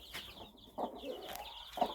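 A broody hen clucks near her newly hatched chicks in a backyard coop, giving a few short, soft clucks with faint high peeping from the chicks running through it.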